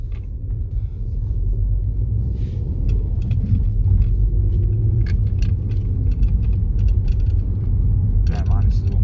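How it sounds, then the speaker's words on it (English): A 1.2-litre car engine idles and rumbles steadily in race mode after a race chip installation, with a low continuous drone and faint mechanical ticks from the turbo actuator area running throughout. "So some noise has just changed, like an actuator in the turbo or something."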